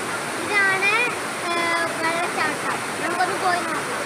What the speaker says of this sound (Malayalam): അപ്പൊ നമ്മൾ അച്ചൻകല്ല് വെള്ളച്ചാട്ടത്തിലേക്ക് എത്തിയിട്ടുണ്ട്.